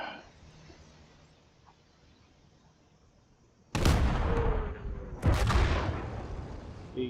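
A gun fires in the WW2 game Call to Arms during a Kursk battle, two heavy booming shots about a second and a half apart. Both are loud and close and follow a quiet stretch of background.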